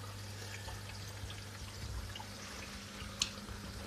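A newly filled aquarium's under-gravel turbo air-lift filter bubbles softly as a faint, steady watery trickle over a low hum, with one brief splash-like click near the end.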